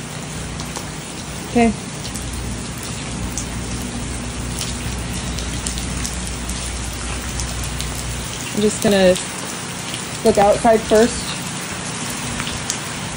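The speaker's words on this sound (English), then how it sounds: "It really has to rain right now." Steady rain falls outdoors, a continuous broadband hiss running the whole time, with a few brief bursts of talk over it.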